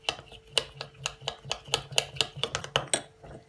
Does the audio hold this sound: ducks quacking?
no